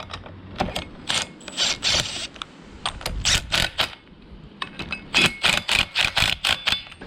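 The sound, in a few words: tightening wheel bolts on Toyota 4Runner hub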